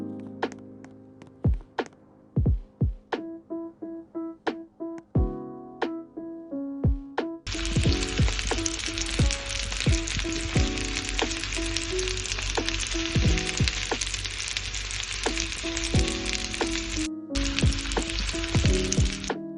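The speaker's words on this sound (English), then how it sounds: "let's cook the egg" An egg frying in a pan: first a string of sharp taps and cracks, then a loud, steady sizzle that runs on with one brief break, close and without talk.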